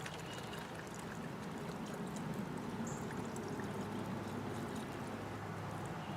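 Filthy, dirty water pours in a steady, continuous stream, a broad splashing rush that holds at an even level throughout.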